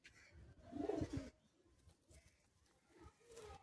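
Pair of white Madrasi pigeons cooing close by, a soft low burst of throaty coos followed by quieter intermittent murmurs.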